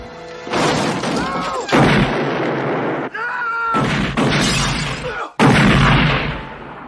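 Several sharp, booming gunshots ring out during a tense home invasion scene in a film, loud bursts spaced a second or two apart with echoing tails and a dramatic soundtrack underneath.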